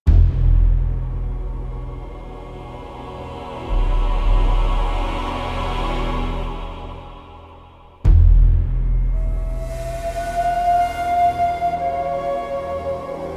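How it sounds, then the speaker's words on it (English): Dark orchestral music from the Jurassic Park opening titles, with a low, ominous sustained chord, then a breathy flute-like melody rising over the strings; no voices. "features an ominous chord and a rather cool flute-like instrument"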